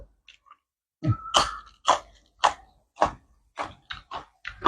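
Someone chews Isan sausage eaten together with fresh chili, giving a string of close, moist bites and crunches in an uneven rhythm with short pauses between them.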